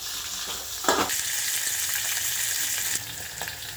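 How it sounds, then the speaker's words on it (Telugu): Tomatoes and onions frying in a pan for tamarind soup, a loud continuous sizzle close by with a brief rattle and a sharp hiss as ingredients land, no voices. "టమాటాలు ఇంకా ఉల్లిగడ్డలు వేసుకోవాలి"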